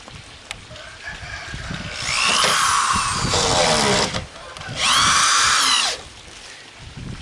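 A power drill drives two screws to secure a piece in place, with two loud sustained whirring bursts of about two seconds each and a short pause between them, close to the microphone and clear of any talk.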